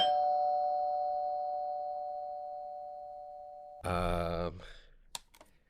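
A long, steady electronic doorbell tone holds for several seconds, then a louder chime burst follows with a few sharp clicks at the end, no talking.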